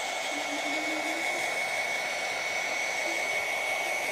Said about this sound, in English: So let me go ahead and get my heat gun.